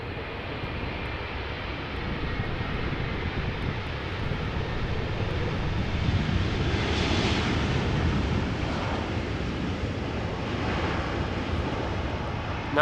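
Airliners land in parallel at Amsterdam Schiphol Airport, a broad continuous engine roar with wind rumble, swelling slightly as one passes, moderately loud and without speech.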